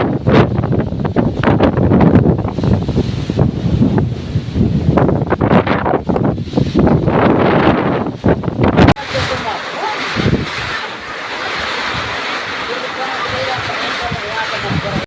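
Strong wind blows during a monsoon rainstorm, buffeting the microphone with a loud, rumbling roar. People talk over it in the first half, then the gusts continue as a broader rushing hiss.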